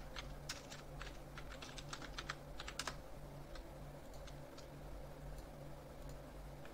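Quick, irregular keystrokes on a computer keyboard as a website address is typed, light clicky taps in bursts over a low steady hum, close and fairly quiet, with no talking.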